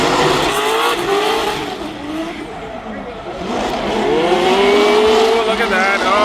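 Drift cars at a Formula Drift event at Long Beach roar and rev loudly, with tires squealing and engine pitch rising and falling as the cars pass close. A steady crowd-like wash sits beneath the noise, and no clear talk stands out.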